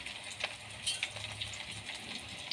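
Onions sizzle in a pan with cumin powder, turmeric, chopped tomato and salt for a goat meat curry. A steady frying hiss runs throughout, with a few soft stirring clicks.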